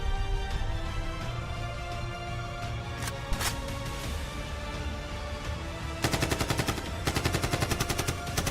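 Film battle gunfire, loud and continuous, with sustained crackling shots throughout, a couple of sharp single cracks midway, and a rapid machine-gun-like burst of evenly spaced shots in the final seconds.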